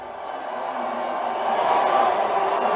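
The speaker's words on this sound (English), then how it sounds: "don't let the booing right now fool you at all" A large crowd at a Trump campaign election watch party in Florida boos and jeers, a dense sustained roar that swells louder toward the end.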